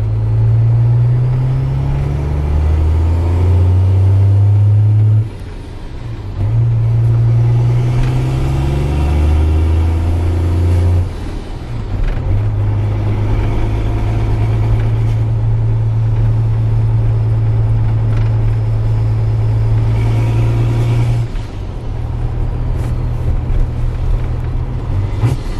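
A car engine fitted with a new hood stack exhaust revs repeatedly, loud and close, with deep rumbling surges that rise and drop, then holds a long sustained higher-RPM drone.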